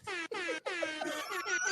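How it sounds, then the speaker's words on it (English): The classic air horn sound effect blares in three rapid stuttering blasts followed by a longer held blare, loud and bright with a wavering pitch and no voices. "I need an air horn button real bad in the studio"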